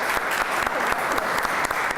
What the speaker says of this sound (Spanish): Demos un aplauso a la magistrada.